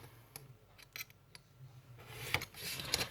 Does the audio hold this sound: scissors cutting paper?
yes